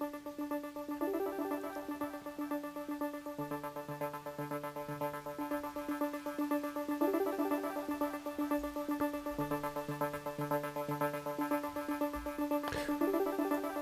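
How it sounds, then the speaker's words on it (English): A Roland MC-303 groovebox plays a repeating melodic line through two delays and a harsh 8-bit, 12.5 kHz redux effect, leaving a gritty, noisy wash over the echoing notes; steady and moderately quiet throughout. "So you really get that noise from the 8-bit reduction at the end."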